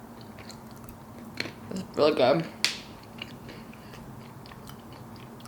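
Crunchy banana pudding flavored gas station snack being bitten and chewed close up, a few loud crisp crunches in a short burst amid faint background noise, with a voice speaking briefly.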